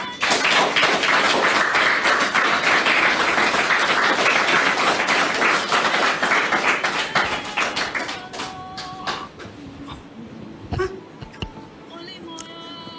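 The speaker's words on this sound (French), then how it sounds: "Merci de la recevoir avec vos applaudissements" Studio audience applause at a French talk show, dense loud clapping for about eight seconds that then thins out into scattered claps and low voices as a woman is welcomed and seated.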